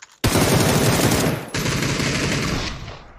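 An AK rifle in a video game fires a loud, sustained burst of rapid automatic shots that breaks briefly, resumes and then trails off.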